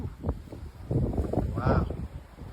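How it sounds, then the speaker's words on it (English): Strong blizzard wind during a snowstorm in the Kansas and Nebraska area, gusting in uneven bursts against the microphone while a person talks over it. "The wind is terrible."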